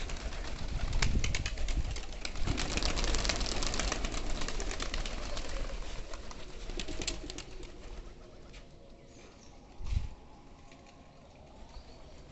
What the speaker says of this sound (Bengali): অনেক কবুতর, প্রায় 50টা 60টা কবুতর আছে